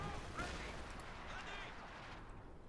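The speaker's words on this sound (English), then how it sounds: "More artillery flying to the base" Artillery shells and scattered gunfire in the World War II strategy game Company of Heroes 2, in an OKW versus USF match, form a dense, low, continuous battle din under a commentator's voice.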